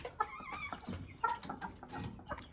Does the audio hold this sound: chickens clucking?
yes